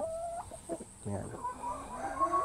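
Shamo chickens clucking on a free-range farm, a series of close, short throaty clucks and rising calls from a few birds over faint background noise.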